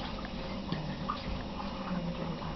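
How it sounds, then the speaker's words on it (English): Water poured over a newborn's head during a bath, a soft continuous splash and trickle heard close up, with no talking. "I'm just going to pour the water over her head."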